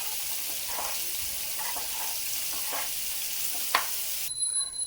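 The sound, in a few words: stirring and sizzling paneer masala curry in a pan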